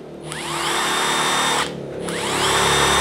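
Milwaukee brushless cordless impact driver on a soft-start setting, spinning up twice with a rising motor whine that climbs from slow to full speed and holds, loud and close with no talking.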